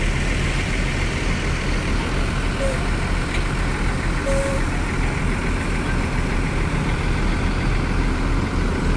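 Sinar Dempo bus from Lahat rolling into Kampung Rambutan terminal, a loud continuous low engine rumble with steady traffic noise around it, close and unbroken for the whole stretch.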